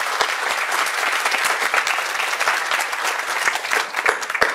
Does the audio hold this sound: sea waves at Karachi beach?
no